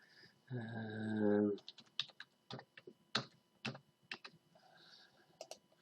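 Keys on a computer keyboard being typed as a username and password are entered, a quick run of separate clicks and taps at close range with uneven pauses, following a short burst of voice at the start.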